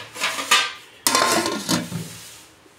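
A metal lid is set down and closed on a pot used for baking cake without an oven, giving two clattering knocks, a light one then a louder close clank with a ringing tail, no talk.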